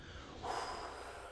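A person breathes out through the nose during a guided breathing exercise in school morning announcements, a short, soft airy exhale rising briefly and then trailing off, heard up close with no talking.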